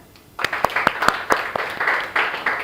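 After a short quiet start, a classroom of students breaks into applause, loose individual claps standing out distinctly at first before merging into a livelier patter, close and fairly loud.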